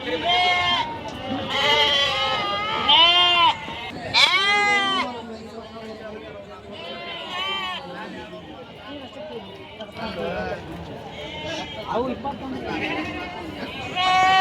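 Sheep bleating loudly and repeatedly, rams mixed with ewe lambs at the Kenda sheep market in Haveri, a chorus of overlapping calls near and far with people talking throughout.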